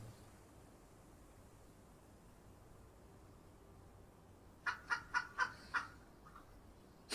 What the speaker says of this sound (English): It's fucking chickens.